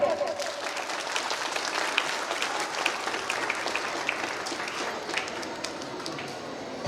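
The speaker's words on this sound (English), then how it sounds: "So all of you, please join your hands and clap for them." Audience applause for students at a school convocation and grandparents' honour ceremony, a steady dense patter of many hands clapping throughout at moderate distance, with a faint voice briefly under the clapping.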